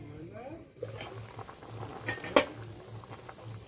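A lid is lifted off a pot of simmering fish curry made with parshe and pabda fish. A gentle bubbling plays under a person talking, and a single sharp metallic clink marks the lid coming off.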